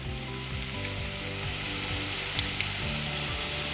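Compound butter melting and sizzling around shrimp in a hot pan for New Orleans style BBQ shrimp, a steady broadband frying hiss with a low harmonic hum beneath and a couple of faint clicks, close and continuous without talk.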